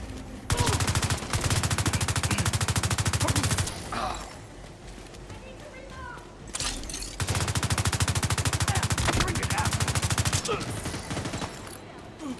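Sustained automatic gunfire from a turret in The Division 2, loud rapid bursts lasting several seconds each, separated by a short pause with faint game noise and voices.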